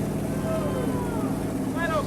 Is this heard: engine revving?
yes